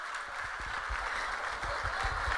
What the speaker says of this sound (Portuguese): Aplaude o que Jesus criou,